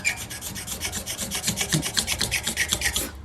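Small sandpaper rubbing an acoustic guitar's wooden fretboard, a quick rhythmic back-and-forth rasp of roughly six strokes per second, close and even, with no talking.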